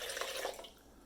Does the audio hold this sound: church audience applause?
no